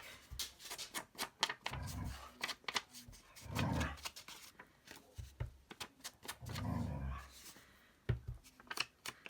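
A dog whines and grumbles in a few drawn-out low bursts amid quiet clicking, rustling and scraping sounds nearby.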